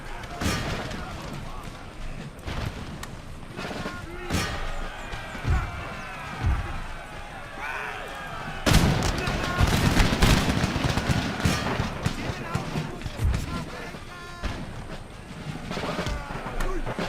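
Musket volleys and grenade blasts from a Napoleonic-era battle in the strategy game Empire: Total War, with booming thuds and scattered cracks layered under dense battle noise, and a heavy burst of explosions midway.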